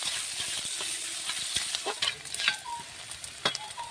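Chopped onion and five dried red chillies fry in a pan for a pumpkin-stem, potato and brinjal dal, giving a steady close sizzle with sharp scraping stirs and clinks of a spatula against the pan, and no voices.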